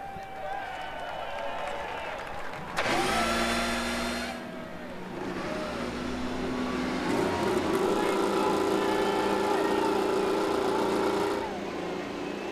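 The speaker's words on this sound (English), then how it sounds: "Drivers, start your engines." IndyCar race car engines firing up on the grid at the Sonoma Grand Prix road course, a sudden loud burst of revving that rises into a sustained, layered mechanical roar with crowd ambience beneath.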